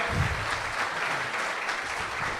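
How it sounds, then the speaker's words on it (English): A crowd applauds steadily, a dense, even wash of clapping that holds at the same loudness throughout. "please give a big round of applause"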